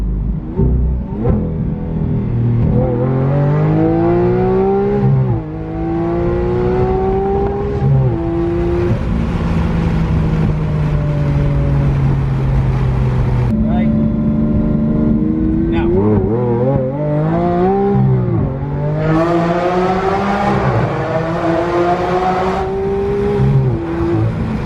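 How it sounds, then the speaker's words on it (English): Loud, raspy straight-piped V12 exhaust from a race-fuel-tuned Lamborghini Aventador Roadster roaring through repeated rising revs and gear shifts, echoing at times in a tunnel, with occasional voices underneath. "So it has a complete straight pipe exhaust system."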